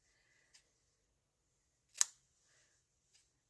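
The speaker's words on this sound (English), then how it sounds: "I'm going to cut that off kind of short." Scissors snip through ribbon during card-making: one crisp, fairly loud cut stands out in otherwise quiet surroundings, with a couple of fainter clicks before and after it.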